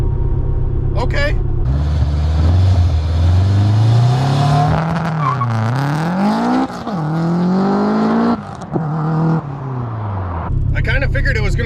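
An AWD K-swapped turbo Honda Civic launches hard and close, its engine climbing through rising revs with brief shifts and dips, then settling back to idle; a voice talks over the run.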